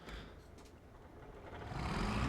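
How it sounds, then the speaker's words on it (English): A diesel tractor engine cranks and starts up on a farm, its low rumble building steadily louder toward the end of the brief stretch and running alone with no talk. "let's see how good this thing fires up"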